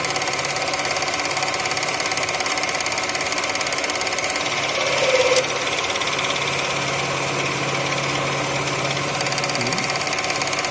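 Lathe turning a profile on a cannon barrel, a steady mechanical whir and hum with continuous high hiss of the running machine, a brief louder cutting scrape midway, constant and fairly close.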